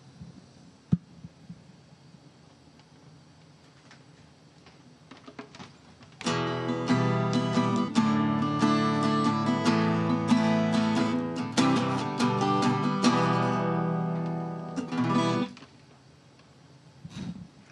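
Acoustic guitar played aboard the International Space Station, a short strummed passage of chords about nine seconds long, fairly close and steady, starting abruptly after quiet cabin hum and stopping just as suddenly.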